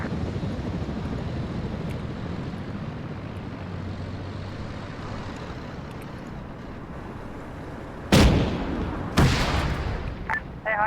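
A demolition charge destroys a Scud launcher in Arma 3, two loud blasts bursting sharply out of a steady low rumble of wind and engine noise near the end, followed by a smaller pop.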